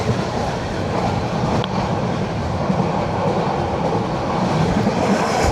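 Mahanagar Provati passenger train in Bangladesh running loud and close, a steady broadband roar with rhythmic clattering of wheels on rails throughout, no voices.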